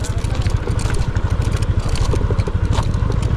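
A Warrior motorcycle bounces along a rough, rutted road on Simara, its engine a steady low rumble beneath constant clattering and knocking from the bumpy ride, close and loud throughout.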